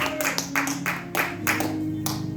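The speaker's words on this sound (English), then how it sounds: "clap your hands and give God praise" Church congregation clapping hands in praise during a sermon on prayer: rhythmic, evenly spaced group claps over a sustained organ or keyboard drone, moderately loud and close.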